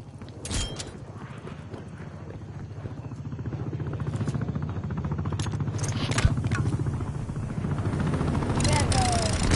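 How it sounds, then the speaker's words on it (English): Attack helicopter from the video game Call of Duty, a steady rotor thrum holding throughout and swelling slightly toward the end, mixed with bursts of gameplay effects. "TACCOM, calling in attack helicopter CAS."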